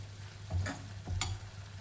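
Homemade Savji masala frying in hot oil for a spicy potato curry, a soft steady sizzle with a couple of brief stirring scrapes, quiet and close.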